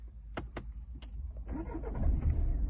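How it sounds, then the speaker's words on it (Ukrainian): A few clicks are followed by the push-button start of a 2015 Volkswagen Passat B8 with a 2.0 diesel engine, cranking and catching, settling into a low, steady idle rumble. "Заводиться пів, з півоберта"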